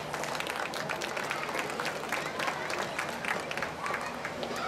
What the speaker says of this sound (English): I'd like to give all the young exhibitors a big round of applause at this time.